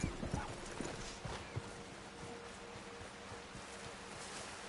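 Hooves of a horse in Red Dead Redemption 2 clop on a bridge, a few distinct knocks early on, then fading into steady outdoor ambience with a faint rustle.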